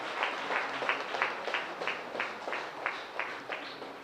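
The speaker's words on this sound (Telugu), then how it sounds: "ఒకసారి గట్టిగా క్లాప్స్ కూడా." An audience at a Pyramid Party success meeting claps together in a steady rhythm, about a dozen beats at roughly three per second, distant and fairly faint.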